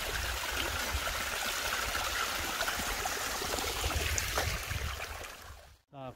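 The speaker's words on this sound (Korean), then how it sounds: "자, 이렇게 내려오니 시냇물도 나옵니다." Mountain stream trickling beside a hiking trail on Dalreumsan in Gijang, Busan, a steady close rush and babble of water that fades out near the end.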